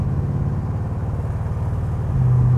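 A 1939 Chevrolet pickup truck drives along with a steady, deep engine and exhaust rumble from its custom exhaust system, heard close and loud and swelling slightly near the end, with no voices.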